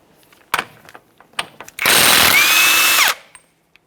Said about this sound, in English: let's continue on with a 32mm to remove our axle nut